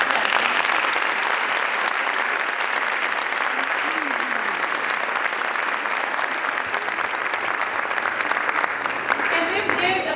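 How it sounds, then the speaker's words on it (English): An audience in the McCallum Arts Center theater applauds a school district's State of the District address, a dense, sustained round of clapping throughout with no speech over it. "please give them all a round of applause"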